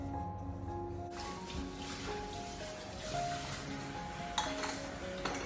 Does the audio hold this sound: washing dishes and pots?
yes